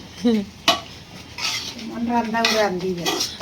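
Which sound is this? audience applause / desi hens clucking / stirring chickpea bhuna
stirring chickpea bhuna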